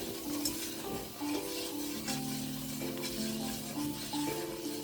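Butter and flour cooking together into a roux in a pan, a steady soft sizzle with occasional utensil scrapes and stirring, close and continuous under a faint background tone.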